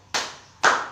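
Two sharp, loud claps about half a second apart from a group doing a rhythmic spirit clap together, each a crisp burst that fades quickly.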